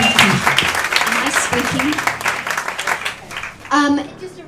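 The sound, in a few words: seminar audience applauding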